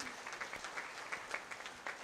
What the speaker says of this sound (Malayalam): അവർക്ക് നല്ലൊരു കൈയടി കൊടുക്കുക